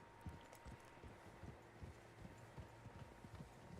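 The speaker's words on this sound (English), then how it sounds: "Horses, quite a few of them." Several horses walking in Red Dead Redemption 2, their hooves clip-clopping in a steady, overlapping rhythm at moderate distance over a low ambient bed, with no talk.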